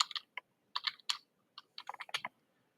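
Keys on a computer keyboard are tapped in short quick bursts with brief pauses, crisp close clicks in a quiet room.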